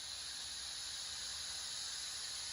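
Compressed air hisses steadily through a steam mixing unit set to about 0.3 bar for inversion pipe lining, a constant broadband rush with no breaks, alone and fairly close.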